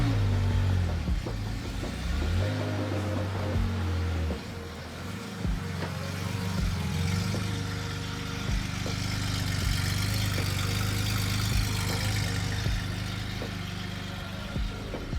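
A car engine idles steadily, its low hum holding close and even, with a brief dip at about four seconds before settling back into the same drone.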